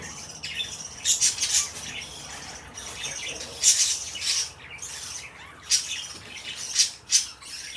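Baby birds squawk in clustered harsh bursts, several loud peaks spaced irregularly over a quieter hissy background, close to the listener.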